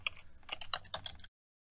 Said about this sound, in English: So watch as I type in create and then database.